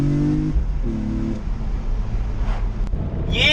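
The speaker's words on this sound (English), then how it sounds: "I've got both hands on the steering wheel, I'm flipping through gears" A BMW E46 M3 with SMG gearbox is driven, its engine note climbing in short rising pitches broken by gear changes. Road and wind noise stay steady underneath, heard from inside the cabin.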